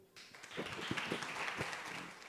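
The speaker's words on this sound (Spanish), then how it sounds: "Un aplauso" Audience applause at an awards ceremony for a student science prize in Colombia, a steady wash of many hands clapping at moderate distance, rising quickly and holding through the clip.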